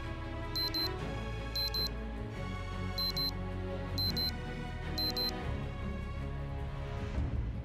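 An alarm clock rings in the video game Project Zomboid, sounding as repeated bursts of high electronic beeping, about five clusters at regular intervals, over a steady low background tone with no talking.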